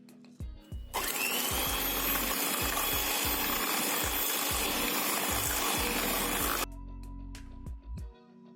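Electric mixer beating brownie batter with sugar at high speed, a loud, steady whir running for about six seconds before stopping, with a few clanks just before and after.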